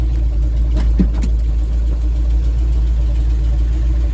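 The engine of a Simca Marmon 4x4 runs at a loud, steady idle just after starting in gear, a deep constant rumble close by with no talk.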